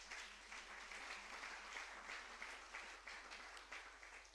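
A church congregation applauds to acclaim the Lord, a steady wash of many hands clapping at a distance that holds evenly throughout, with no voices on top.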